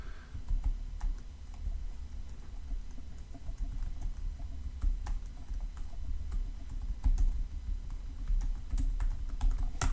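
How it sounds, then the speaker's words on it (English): Steady, quick typing on a computer keyboard, a continuous patter of soft key clicks with occasional louder taps and no talking. "I'm just typing around."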